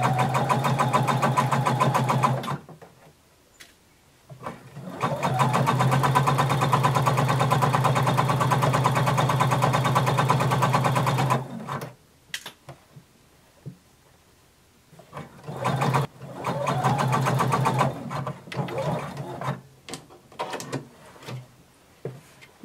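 A sewing machine runs a long basting stitch down pant legs in long continuous bursts, the first and longest about nine seconds, then stopping and restarting in shorter runs with quiet pauses between.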